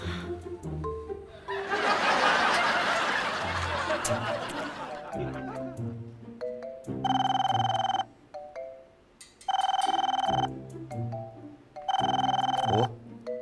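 A telephone rings in repeated loud electronic bursts with short gaps between them, mixed with laughter and Vietnamese conversation in a home setting.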